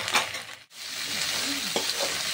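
Garlic and ginger paste sautéing in oil for a Bengali katla fish biryani. It makes a steady, close sizzle with a brief break and a few soft stirring scrapes.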